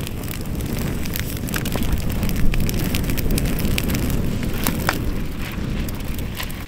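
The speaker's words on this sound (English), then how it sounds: "Usually, like when that steam comes out, it's like whoosh for like minutes on end." Steam hisses steadily from a cooking pot on a camping stove outdoors in below-zero winter conditions, a continuous close whoosh with faint crackles running throughout.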